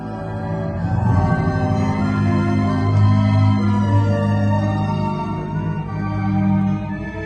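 Orchestral music from a vinyl record of Prokofiev's Symphony No. 5, Jean Martineau conducting the Paris Conservatoire Orchestra, plays steadily at full, sustained level with rich low strings and no talking.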